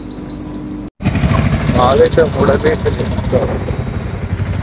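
A motorcycle engine fires up after a short break in the sound and settles into a loud, close, rumbling idle, with someone talking over it.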